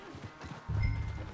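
A horse's hooves clip-clop in the video game Red Dead Redemption 2, a brief, fairly loud burst of low thuds that starts abruptly partway through, close to the listener.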